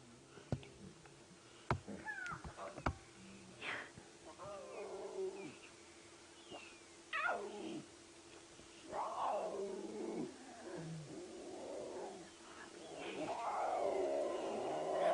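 Young lion cubs call repeatedly outdoors on safari, a series of high mewing cries and short growling yowls, some near and loud, others softer, with scattered clicks and a faint voice in the background.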